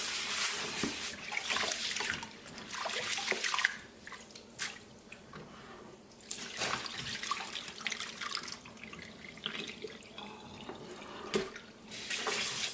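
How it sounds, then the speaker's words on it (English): Rice being washed by hand in a bowl of water for Nigerian party jollof rice, with continuous sloshing, swishing and dripping close up, in steady bursts and no talking. "And I'm going to keep washing this until the water runs clear."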